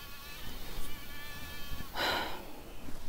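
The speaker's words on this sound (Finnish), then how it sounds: "Ja mistä nämä helvetin hyttysetkin on tähän tullut?" Mosquitoes whine in a forest, a thin, steady buzz close by with a brief breathy rush partway through.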